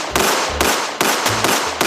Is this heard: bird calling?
no